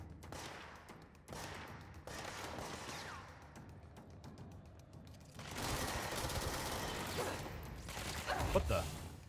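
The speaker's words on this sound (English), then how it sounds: "Wow, shooting." Gunfire in the video game Control, a few sharp shots early on, then a longer dense burst of firing with some mechanical clatter, fairly quiet overall and mixed with faint voices.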